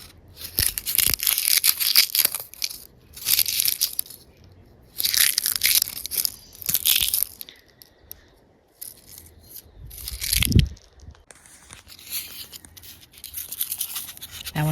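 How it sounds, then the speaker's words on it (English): Dried seed pods of a native plant, papery like stiff tissue paper, shaken by hand so the loose seeds rattle in several short dry bursts, near and fairly crisp, with quiet pauses between the shakes. "Now when you shake them, you can hear the seeds in there."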